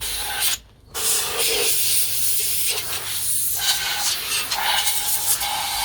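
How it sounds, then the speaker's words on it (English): Cordless air compressor blowing dust out of a Dyson cordless vacuum, a steady loud hissing rush of air that briefly cuts out near the start and then runs on continuously. "I can hear the compressor now running out of there"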